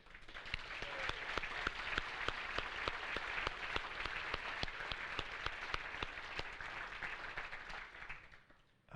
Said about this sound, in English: ask for a round of applause for our panellists and facilitator today